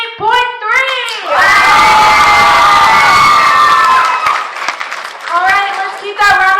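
A poetry slam audience cheering, shouting and clapping in a loud, sustained burst, with a voice speaking over the crowd before and after.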